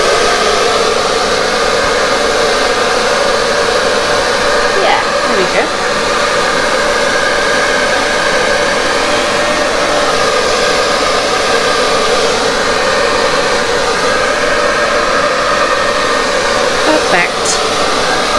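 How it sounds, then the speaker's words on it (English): A hair dryer blows steadily and loudly over resin during a Dutch pour, a continuous broadband whoosh with a constant motor hum that runs unbroken for the whole stretch, with faint brief knocks near the middle and end. "I could blow it with a hairdryer."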